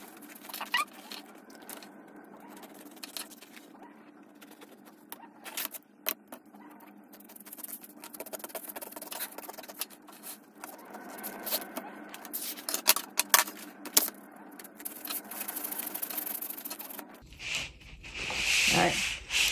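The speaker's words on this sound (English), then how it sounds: "So I'm just going to cut it up to this cardboard." Cardboard being cut by hand nearby, quiet scraping and rubbing strokes in irregular bursts, growing louder toward the end, with no talking.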